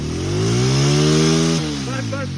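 A motorcycle engine revs steadily in third gear beside a stream, its tone climbing and holding loud and close before easing off briefly and picking back up.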